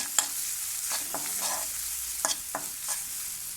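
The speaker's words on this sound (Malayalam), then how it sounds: "പിന്നെ അതിലേക്ക് കുറച്ച് തേങ്ങയും കൂടി ഇട്ടിട്ട് ഒന്ന് വറുത്തിട്ട് വേണം എരിശ്ശേരിയിലേക്ക് ഇടാനായിട്ട്" Steady sizzling of grated coconut frying in hot oil for tempering erissery, with occasional scraping stirs of a spoon against the pan; no voices.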